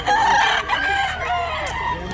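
A rooster crows loudly and close by in one long, wavering call lasting about two seconds, with faint clucking from other fowl in the background.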